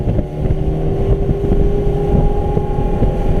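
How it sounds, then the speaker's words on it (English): A 2004 Sea Hunt 200 Escape boat runs at speed on open water, its outboard engine droning loud and steady with constant hull slap and wind buffeting, no voices over it. "we're running about 34 miles an hour. I'm going to trim it up, and let's see what we can do."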